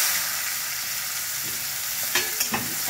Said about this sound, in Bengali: তারপরে পেঁয়াজ ছেড়ে দিলাম।